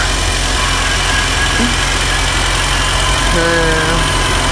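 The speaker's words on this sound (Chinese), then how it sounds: "现在发动一下，看看它是不是一下就能着，点一下火" A Mercedes-Benz car engine under repair idles loud and close in a steady, unbroken rumble with a faint rhythmic vibration throughout.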